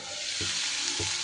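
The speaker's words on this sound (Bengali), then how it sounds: "লো ফ্লেমে চিচিঙ্গেটা একটু ভাজা ভাজা করে নিতে হবে" Snake gourd frying in a covered pan on a low flame, a steady close hiss of sizzling oil with two soft knocks of a stirring spoon, no voices.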